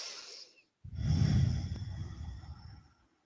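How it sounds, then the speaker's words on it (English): Deep, slow breath during a live full-body yoga stretch class, a single long exhale-like rush of air lasting about two seconds, close and fairly soft, with no talking. "Take a few deep breaths here."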